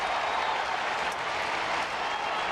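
Cubs fans cheering a base hit at Petco Park during a Cubs at Padres game, a broad, steady wash of applause and crowd noise heard from a distance throughout.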